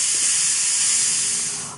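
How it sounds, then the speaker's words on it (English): Loud, steady hiss of steam escaping a pressure cooker of cooked lentils on quick release, close and continuous, easing off slightly at the very end. "I'm going to do the quick release method, and I'm going to use a pot holder because there is hot steam."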